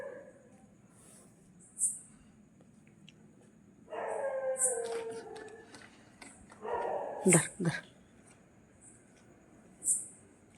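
At a house doorstep in the early morning, a dog lets out two drawn-out howling, whining stretches mixed with barks, between quiet gaps marked by brief high chirps.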